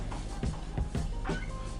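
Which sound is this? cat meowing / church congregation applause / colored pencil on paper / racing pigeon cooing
cat meowing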